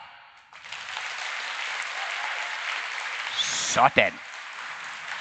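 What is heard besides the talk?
whole hall in Odense clapping at once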